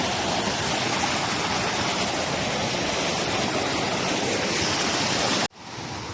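A waterfall in Dachigam National Park, Kashmir, roars as a dense, constant rush of water close by, steady and loud throughout, cutting off abruptly near the end before resuming more faintly.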